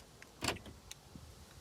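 A Toyota Sequoia's door locks thunk once as the remote key fob is pressed, a short sharp mechanical clunk followed by a faint click, close by in an otherwise quiet setting.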